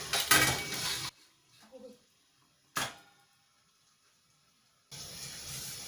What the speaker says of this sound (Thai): น้ำเดือดดีแล้วก็นำขนมของเราลงไปนึ่งเลยนะคะ